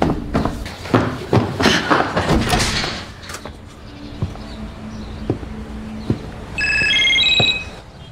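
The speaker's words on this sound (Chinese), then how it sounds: "刚好一个电话打了过来" A telephone rings at home with an incoming call, giving a bright electronic trill near the end after a burst of clattering, footsteps and door noise with a brief voice.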